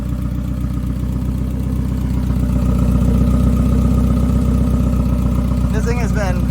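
A 1994 Mazda Miata engine idles steadily after sitting parked for 11 years, a close, even low rumble that holds constant throughout with no revving, and a brief higher rattle near the end.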